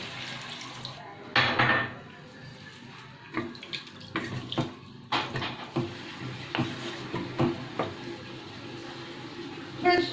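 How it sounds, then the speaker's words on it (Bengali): About a cup of water is poured into a pot of pointed gourd and potato cooking with spices. A short splash of pouring is followed by intermittent clinks and clatter of pots and utensils at close range. "এবার আমি এর মধ্যে এই 1 কাপের মতো জল"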